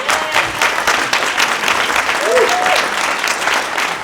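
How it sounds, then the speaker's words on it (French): Crowd applause at a public meeting presenting a programme, a full burst of many hands clapping that carries on steadily, with a few voices murmuring underneath. "On peut l'applaudir, je pense."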